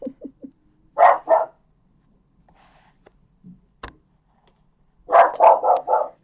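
A dog barks at a passing recycling lorry in bursts of loud, close barks, a few short ones first, then a pair, then a longer run of four or five, with quiet gaps and a faint knock between.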